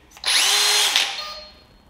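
A TPC 18/4 cordless impact drill spins up with a sharp high whine for about three quarters of a second, then its kickback stop cuts the motor and the sound winds down and fades away.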